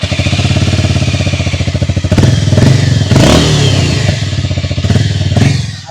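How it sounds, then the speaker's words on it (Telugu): A Harley-Davidson X440 exhaust thumps close and loud in a rapid, steady beat, swelling with a few revs and throwing occasional popping bursts. "ఈ వెహికల్ దీని యొక్క సైలెన్సర్ బీటింగ్ పాప్స్ ఇస్తూ ఉంటుంది"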